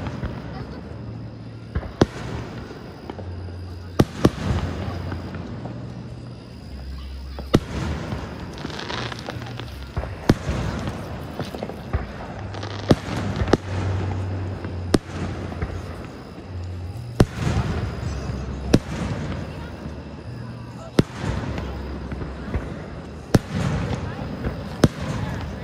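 Fireworks at a show in Bessemer City, North Carolina burst in sharp, spaced booms every couple of seconds, loud and somewhat distant, with low rumbling and occasional voices between blasts.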